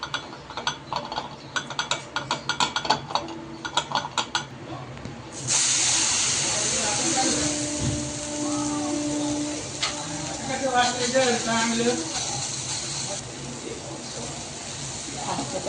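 Pohe thalipeeth fries on a pan as oil is drizzled over it, a steady loud sizzle and hiss that starts abruptly and continues with crackling spatter, while someone talks over it.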